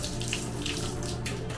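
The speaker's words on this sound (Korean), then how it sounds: "물은잘나오는데수압이좀약해서 샤워할때좀답답할것같아요" Water runs steadily from a bathroom tap at weak pressure, a continuous close hiss and trickle into the basin with no pauses.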